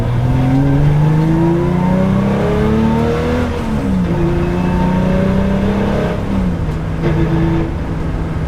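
Loud, close engine of a race car revving up and down through gear changes, a continuous droning whine with rising and falling pitch, no talking.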